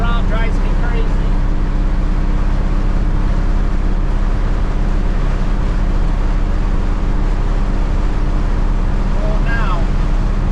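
A cabover truck's engine runs steadily at idle to build air pressure, a loud continuous low rumble with wind buffeting the microphone throughout and a brief voice near the start and end.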